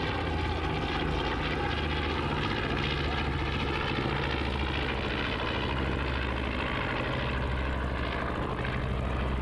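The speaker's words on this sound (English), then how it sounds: "the plane is doing yet another pass. I hear it, but I don't see it." Airplane making a pass at an airshow over Huntington Beach, California, hidden in cloud: a distant, steady propeller-engine roar holds for the full stretch, even and unbroken, with no talk.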